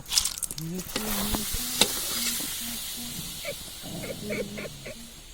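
Chicken fries in hot oil at an outdoor picnic cookout, giving a steady close sizzling hiss with a few sharp pops while people talk over it.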